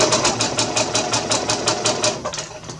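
A sewing machine stitches along a fabric edge, giving a steady, close, rhythmic mechanical chatter of rapid needle strokes that slows and stops near the end.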